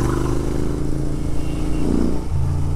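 A Royal Enfield Interceptor motorcycle being ridden, its engine droning steadily at low pitch with a slight rise in revs near the end, loud and close, no talking.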